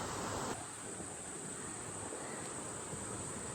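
Steady, continuous rush of flowing water, broad and even throughout, like a stream or small waterfall close by.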